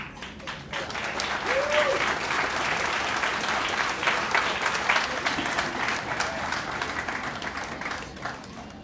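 An audience at a military student recognition ceremony gives steady applause for Air Force and other service students, dense clapping filling the room with a few voices faintly mixed in.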